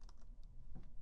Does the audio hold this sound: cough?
no